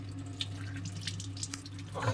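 Water splashing and spraying from a loose pipe connection at the inlet of a homemade aquarium filter, a steady trickling wash of water with small drips over a low hum from the equipment.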